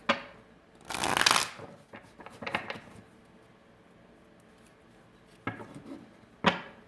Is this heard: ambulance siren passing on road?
no